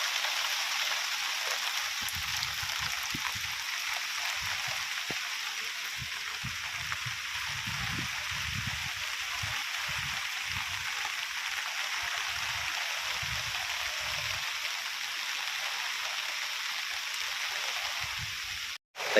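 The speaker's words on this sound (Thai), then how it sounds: "ฝนตกตลอดเลยครับ" Steady rain pours down on a campsite in Thong Pha Phum National Park, Thailand, a continuous dense hiss, with occasional heavier drips and patters hitting a surface nearby.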